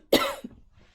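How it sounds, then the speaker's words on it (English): One loud, close cough, sharp and harsh, from a person sitting at a recording setup, trailing into a short throat sound before silence. "all of a sudden my body says, you must cough"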